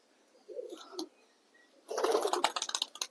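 A pigeon coos briefly, then a sudden loud burst of fluttering wings erupts nearby as a racing pigeon is released and takes off.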